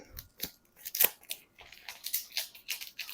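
Duct tape being handled and torn in a series of sharp ripping and crinkling bursts, close and fairly loud, with short pauses between pulls.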